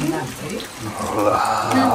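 Steady rain pours down on a wet morning in Nepal during the Dashain festival, a continuous watery hiss with splashing close by and a voice talking over it.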